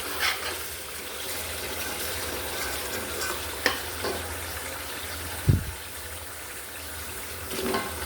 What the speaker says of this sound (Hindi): अच्छा खासा मसाला भुन गया हुआ है